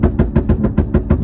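BMW G30 540i sedan exhaust popping and crackling on a downshift while coasting downhill off the gas, a rapid run of about eight sharp bursts close and loud with no talk.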